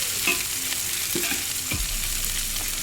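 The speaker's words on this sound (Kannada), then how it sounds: "ಗೋಲ್ಡನ್ ಬ್ರೌನ್ ಕಲರ್ ಬರೋ ತನಕ ಮಿಕ್ಸ್ ಮಾಡ್ಕೋಬೇಕು." Onions for Hyderabadi chicken dum biryani fry in hot oil with a dense, constant sizzle, while a spoon scrapes and mixes them in a few quick strokes, close up and fairly loud, without speech.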